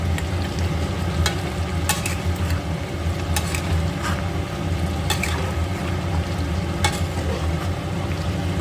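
Mutton curry bubbles in a pan while a spoon stirs it, giving a steady low simmer under occasional sharp scraping strokes, close and fairly loud, with no talking.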